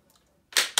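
Breech of a Martini-Henry rifle closing with two sharp metallic clacks close up, the second following a quarter second after the first.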